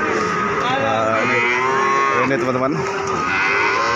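Loud cattle mooing at a livestock market in Pati during heavy rain, several long drawn-out lows overlapping close by, with a person speaking briefly over them.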